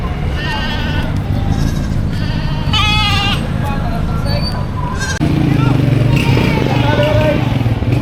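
Goats bleat repeatedly close by at a livestock market, over a steady engine drone and background chatter.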